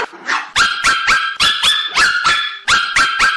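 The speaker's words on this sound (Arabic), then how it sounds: "الكلاب وتنباح والقافله تسير، سمعتوا؟" Dogs bark loudly and close, a quick run of sharp, repeated barks in uneven bursts with short gaps, no voices over them.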